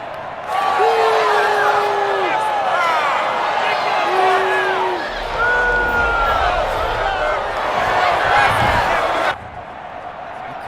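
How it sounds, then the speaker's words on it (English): Stadium crowd noise from the Madden 21 football video game, a loud roaring crowd with rising whoops and cheers swelling in waves, the speaker's commentary heard over the top before the crowd cuts off abruptly. "Crowd sometimes is too loud. Madden's got to do something about that."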